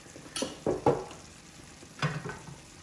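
Drained rice tumbles into a pot of chicken biryani in a few soft, brief pours and rustles, close by and quiet, with gaps between each addition.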